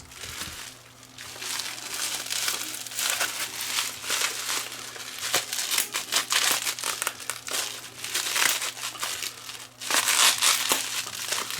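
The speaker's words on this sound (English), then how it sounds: "Watch me cut through the cord opening it up." Plastic wrapping and packaging crinkle and rustle as a cord is cut and a mystery package left at a doorstep is opened, with irregular crumpling bursts and a steady low hum underneath.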